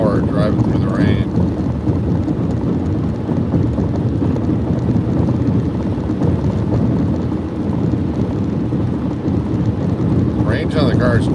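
Heavy rain and low storm rumble from inside a car driving through a monsoon thunderstorm on the road from Phoenix toward El Paso, a dense continuous roar with road and wind noise throughout and no clear talk.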